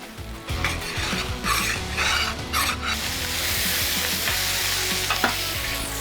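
Bacon frying in its own grease in a pan, a continuous close sizzle with scraping and stirring strokes and a few utensil clinks over it.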